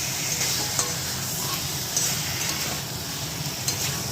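Chicken pieces fry in a pan in a home kitchen at night, giving a steady, even sizzle with a few faint clinks of stirring over it and no talking.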